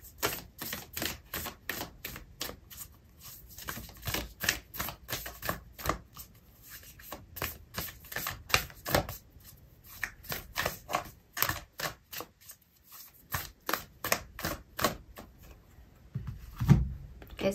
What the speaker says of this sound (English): Okay, so I'm going to pull out an oracle card for you